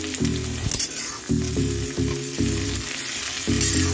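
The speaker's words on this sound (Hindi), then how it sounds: "अब इसमें हम बीन डालेंगे, इसको हल्का फ्राई कर लेंगे" Green beans frying in a pan with onion and potato for a home-style sabzi, a loud steady sizzle from close by that runs the whole time over a low tonal hum, with no voices.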